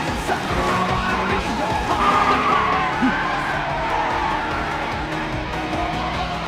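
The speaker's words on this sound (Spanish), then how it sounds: "¡Mira! El FC está derrapando hacia afuera." A Mazda RX-7 FC drifting wide through a corner in an anime race, with loud sustained tyre squeal and skidding over engine roar, and shouting voices mixed in.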